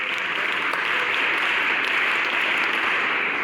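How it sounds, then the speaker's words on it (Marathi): An audience applauds children at an outdoor village community programme, with dense, steady clapping from a crowd that stays even throughout. "मुलांना पुन्हा एकदा टाळ्या वाजवा."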